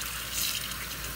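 Running tap water pours steadily while a lace frontal wig's hair is washed after bleaching the knots, making a loud, even hiss with slight splashing fluctuations.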